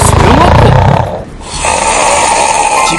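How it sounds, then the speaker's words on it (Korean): A man snores loudly and heavily, a severe snore compared to subway noise in loudness. Deep, rasping rattling inhalations fill the first second, then a brief lull before a steady breathy exhale continues close to the microphone. "지하철 소음과 맞먹는 코골이."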